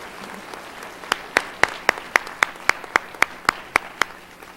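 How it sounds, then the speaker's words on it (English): Audience clapping at a lecture event in honor of a speaker: about a dozen sharp, evenly spaced claps in a steady rhythm, fairly close and clear, with no talking over them. "Let's give him another round of applause."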